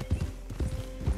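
Horse hooves clip-clop in Red Dead Redemption 2, three quick pairs of thudding steps in an even trotting rhythm, close and fairly loud over a low steady hum, with no voices.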